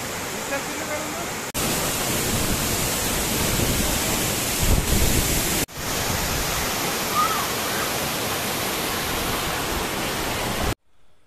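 Karakkundu waterfall in Kannur, Kerala roars as a steady, dense rush of falling water, loud and continuous, with two brief cuts in the flow before it stops abruptly.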